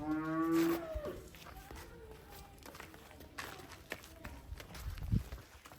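A cow moos once near the start, then shuffling hoof steps and soft scattered movement follow in a quiet barnyard with Ayrshire-cross cattle and calves.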